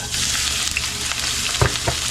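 Chicken pieces for kung pao chicken sizzle and fry in well-heated cooking oil, a steady close hiss with a couple of louder crackling bursts near the end.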